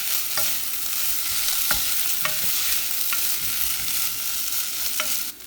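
Chicken breast sizzles in a hot pan while browning, a steady loud frying hiss with a few sharp utensil scrapes and taps as the pieces are stirred.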